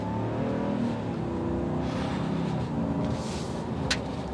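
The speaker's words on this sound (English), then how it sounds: "We're gonna give that Hemi a little go." A 2022 Ram 2500 Power Wagon with its heavy-duty 6.4-liter Hemi engine builds into a steady, loud, full-throated rev that holds for the whole stretch, rumbling deep and continuous with no one talking over it.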